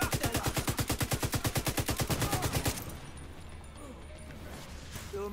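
Rapid light machine gun fire in The Division 2 shooter game, a fast steady burst of loud repeated shots for about three seconds, then cutting out to quieter game ambience with faint voices.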